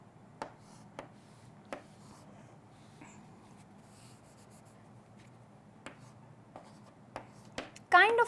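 A pen writing on paper while a penicillin structure is drawn, faint scratchy strokes with a few sharper taps over a quiet background hum, ending in a brief louder scribble.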